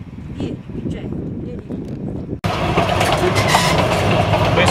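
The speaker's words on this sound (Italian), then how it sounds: "siamo appena partiti, col treno a vapore, con destinazione Chama" A steam train rumbles and clatters along the rails near Antonito, Colorado, loud and close, with a louder, brighter rush of rolling noise in the second half.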